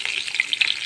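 Hilsa fish pieces fry in hot oil in a close, bright, crackling sizzle that holds steady through a brief moment.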